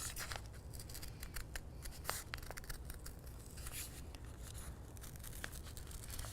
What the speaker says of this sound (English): I'll just cut off the part that I just did because it's already been cut out of the white.